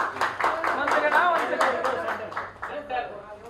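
Audience clapping at an album launch for a devotional Krishna song, a quick burst of rhythmic claps from a moderate crowd in a hall, fairly near and steady, with faint chatter underneath.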